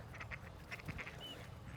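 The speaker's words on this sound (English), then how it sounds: "These ducks, look at them, they're friendly." Ducks quack in short repeated bursts at Kitsilano Beach, a few calls close together, moderately near over quiet outdoor background.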